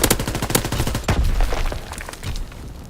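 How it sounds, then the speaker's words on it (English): Shotgun blasts and other gunfire in an online match of the video game Call of Duty: WWII, loud rapid bursts of booming shots packed closely together with no talk. "Shotgun didn't save you that time."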